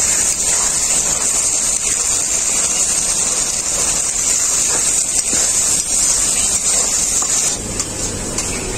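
Sour yogurt hits a hot, oil-releasing spice paste in a pan for a rohu fish curry, giving a loud, continuous hissing sizzle that holds steady and eases slightly near the end.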